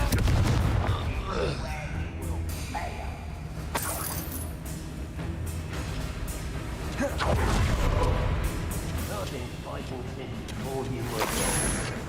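In Hogwarts Legacy, Bombarda and Confringo spells go off as repeated explosive booms and crackling blasts over continuous game noise, while a voice talks throughout.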